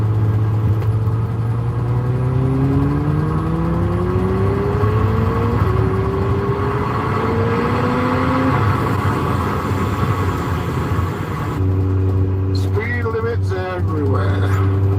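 A car engine hums steadily at about 3,000 rpm in third gear at 40 mph, with rising tonal sweeps as it runs, while someone talks over it throughout.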